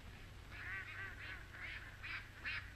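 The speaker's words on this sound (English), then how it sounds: "Look at those ducks." Ducks quack in a 1932 comedy film soundtrack, a run of about six honking calls in a loose, irregular rhythm over a hissy old recording, at moderate distance and fairly faint.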